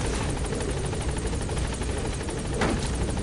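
A helicopter in Metal Gear Solid V drones with a dense, continuous rotor thrum and rhythmic blade chop, loud and close throughout with no pauses.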